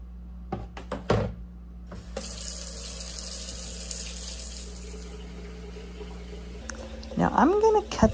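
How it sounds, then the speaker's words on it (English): Carrot greens are rinsed under a running kitchen tap, with steady splashing water, a few knocks and clatters early on, and a voice speaking near the end. "Now I'm going to cut these up as I rinse."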